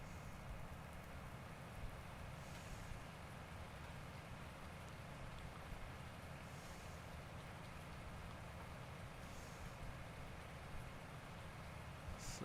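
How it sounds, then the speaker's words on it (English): Steady rain falls in the Farm Simulator video game, a soft, even hiss of drops on surfaces that lasts the whole stretch at low volume, with no talking. "Oh, and now it's raining."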